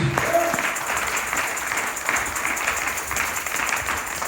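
A church congregation applauding the Lord, a dense wash of clapping from many hands that holds steady throughout after a brief voice at the very start.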